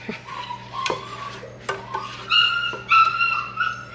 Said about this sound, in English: That's our new puppy.